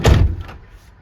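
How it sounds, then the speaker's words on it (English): A single heavy thud of a GMC Safari 4x4 van's sliding door closing, close by, with a brief rumbling decay afterward. "the sliding door mechanism is a big consideration"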